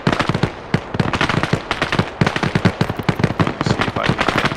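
Rapid, dense automatic gunfire from the tactical shooter Bellum, with bursts of sharp shots crackling almost without pause, loud and close, and no talking.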